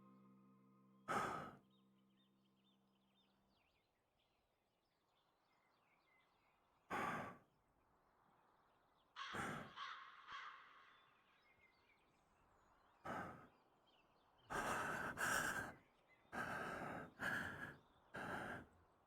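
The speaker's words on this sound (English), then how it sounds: "you hear some haggard breathing." Ragged, heavy breaths and sighs come in separate bursts against near silence, some single and some bunched close together, with a faint steady tone at the start.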